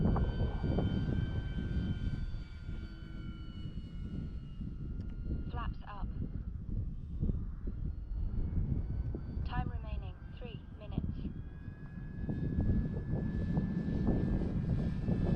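E-Flite T-28 1.2m RC airplane flying at about half throttle on its maiden flight in gusty wind, a steady electric motor and propeller drone with wind buffeting on the microphone, a person talking over it throughout.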